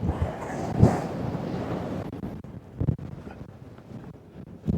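Strong coastal wind on a clifftop at St Davids Head, Pembrokeshire, Wales, buffets the microphone in loud, rumbling gusts, with no voices.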